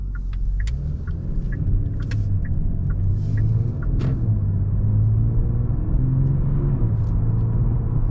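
A 2022 Genesis G70 3.3T AWD pulls away in comfort mode. A steady low engine and road rumble comes from inside the cabin, with gentle rises in pitch as it gains speed and a few faint ticks and clicks over the top.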